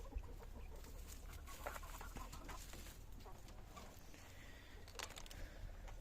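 Small quail peep and chirp in scattered, odd little calls, fairly close but soft, over a low rumbling background.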